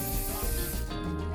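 A spray can or bottle mists sealant over the epoxy surface of a fishtail-shaped charcuterie board: a steady, close hiss of about a second and a half, continuous and alone with no talk.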